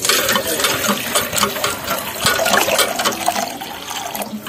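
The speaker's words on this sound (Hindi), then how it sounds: "यहाँ से जी अभी भर रहे हैं पानी" Water runs from a tap into a container being filled for cooking rice, a close, loud rushing splash that swells and eases slightly and continues throughout.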